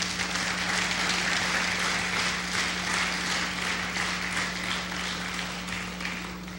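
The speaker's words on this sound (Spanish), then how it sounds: "Y todos dicen, y le hace un aplauso al Señor." A church congregation applauding during a sermon, giving a dense, steady patter of many hands that tapers slightly toward the end, with a low electrical hum running underneath.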